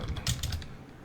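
A quick burst of a few keystrokes on a computer keyboard, close and clicky, fading to quiet within a second, no voices.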